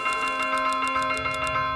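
A church bell rung rapidly by a priest in the medieval village game Manor Lords, struck in quick repeated clangs with a sustained ringing tone between strikes, loud and alone.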